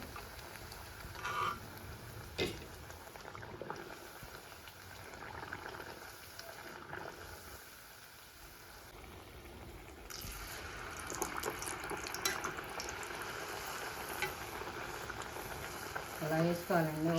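Sweet burelu dough balls fry in hot oil with a steady low sizzle and bubbling, growing louder and busier partway through, with brief clinks near the end.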